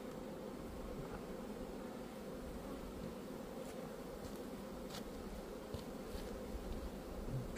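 Honeybees inside a beehive make a dense, continuous buzzing hum that stays close and steady throughout, with a few faint clicks and rustles mixed in.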